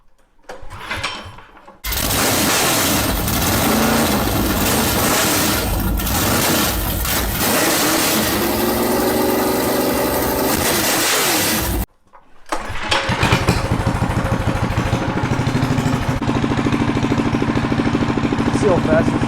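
A go-kart engine with a newly installed rear axle and sprocket sputters briefly, catches and roars at a loud steady rev for about ten seconds, cuts out, then fires again and keeps running hard.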